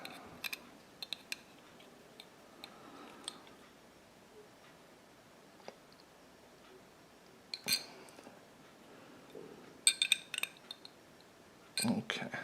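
Small metal clicks and light taps as a TruGlo TFO night sight is screwed into a sight installation tool on a Glock 36 pistol, with scattered sharper clinks near the end, quiet and close.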